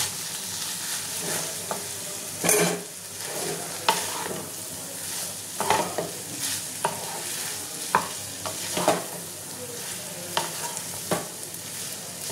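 Pasta and egg bhujia fried together in a pan, stirred with a utensil that scrapes and taps the pan at irregular intervals over a continuous sizzle, loud and close.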